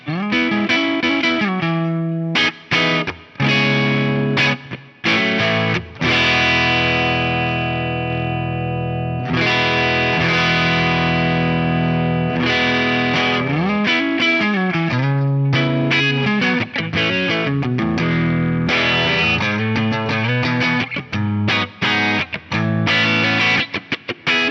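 Electric guitar played through an Axe-Fx III using its Bassman amp model with a big hall reverb, sounding as loud, sustained chords and notes with short breaks, full and unaccompanied, with no talking.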